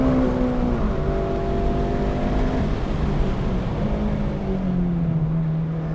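A Honda Civic Si engine droning on a race track, its pitch climbing and dropping through gear changes, loud and continuous with steady road and wind noise.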